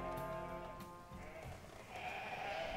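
A single sheep gives a clear, fairly close bleat at the start, followed by quieter ambient noise and a second, fainter bleat-like sound near the end.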